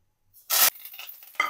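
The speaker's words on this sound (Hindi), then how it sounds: "मैं लहसुन के गोल्डन हो जाने तक इस बघार को पका लूंगी" Garlic, curry leaves and whole cumin dropped into hot oil with red chillies for a kadhi tempering give a sharp, loud burst of sizzle, then a softer crackling fry and a second brief flare.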